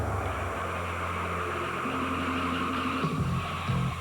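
A car brakes hard during a brake pad stopping test, its tires squealing and skidding in a long rising screech over steady road and engine roar.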